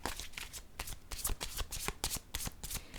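Pink oracle cards are handled and shuffled close up, a quick series of crisp riffling slaps and flutters in an irregular rhythm with no speech.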